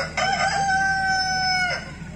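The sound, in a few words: voice imitating rooster crowing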